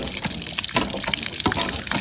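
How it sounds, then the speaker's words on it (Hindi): Water gushes from a newly installed hand pump at a village mosque, splashing and pouring in uneven surges with faint sharp clanks, close and fairly quiet, with no talking. "हैंड पंप पानी दे रहा है।"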